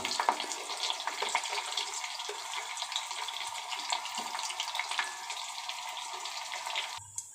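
Chopped onion pieces frying in oil in a pan, a steady close sizzling hiss with crackling pops that continues throughout before cutting off near the end.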